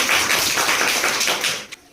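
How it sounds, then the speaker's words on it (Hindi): A classroom of school students at a science quiz break into brief applause for a correct answer, a dense burst of many hands clapping together that fades out after about two seconds. "एक बार ताली बजाओ इसके लिए"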